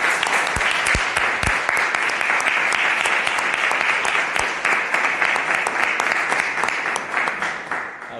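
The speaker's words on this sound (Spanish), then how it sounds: "quería dar un aplauso, no sé si les parece" Audience applause after a talk on family violence and neurodivergence, loud sustained clapping from many people in a room, close and even, tapering slightly toward the end.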